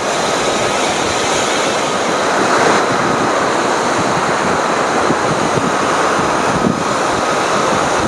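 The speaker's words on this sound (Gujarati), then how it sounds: "તો આ ઘટકી ડેમ ઓવરફ્લો થઈ ગયું છે ને અત્યારે અડધો ફૂટ ઓવરફ્લો જાય છે" Water from an overflowing dam after heavy rain makes a loud, continuous broadband roar, mixed with wind buffeting the microphone.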